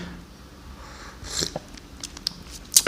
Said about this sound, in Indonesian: Kayaknya enak, seruput sekali lagi.